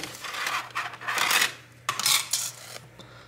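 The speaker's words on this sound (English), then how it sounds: "I should be able to undo these three screws over here" A 3-0 Phillips head screwdriver works screws loose inside an iPad Air 2 during a battery replacement, giving close, faint bursts of metallic scraping and small clicks in an irregular rhythm.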